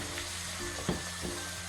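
Chili pepper and turmeric powder frying in oil in a pan for a white lime pickle, giving a low, steady sizzle with a single soft stirring knock partway through.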